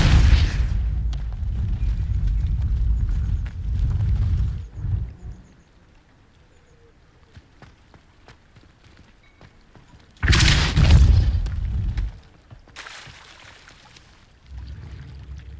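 Depulso spell effects in the video game Hogwarts Legacy, heavy booming whooshes with rumbling low energy, loud bursts separated by quieter ambient game sound.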